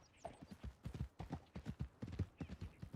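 Rapid, rhythmic clip-clop of horse hooves at a trot in the video game Red Dead Redemption 2, close and evenly paced, with no voices.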